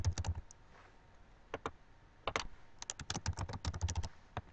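Bursts of typing on a computer keyboard while entering an email address and password, quick clusters of clicky keystrokes separated by short pauses, close and fairly quiet with no talk.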